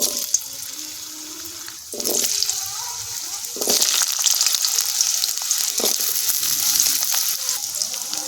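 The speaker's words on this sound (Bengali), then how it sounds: "তেল গরম হয়ে গেছে, তেলে দিয়ে দেবো আলু।" Potatoes dropped into hot oil in a wok set off a loud, close sizzle that surges after a quieter start and then hisses steadily with bubbling.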